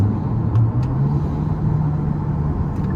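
A large Kia van's engine drones low and steady close by, a continuous rumbling hum from inside the cabin with a faint shift in pitch as a gear drops.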